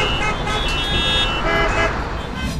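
Vehicle horns honk steadily amid loud road traffic in Maharashtra, the tones blending with the constant rumble of engines and street noise.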